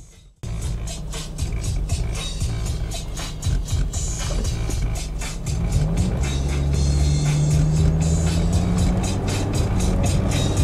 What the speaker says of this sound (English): All right, we're driving.